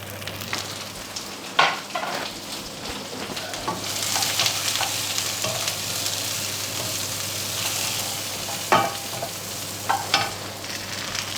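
Mushrooms frying and being stirred into a turkey curry in a pan: a continuous sizzle that swells after they go in, with a few sharp utensil knocks and scrapes, close up and without speech.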